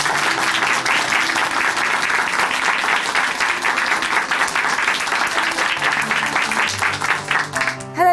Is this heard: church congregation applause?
yes